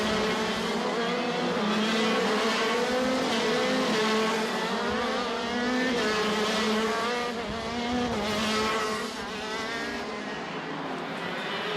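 Several KZ2 racing karts scream past during a prefinal race at the WSK Champions Cup on the South Garda Karting track at Lonato. Their high, rising engine notes overlap loudly and continuously for the whole stretch.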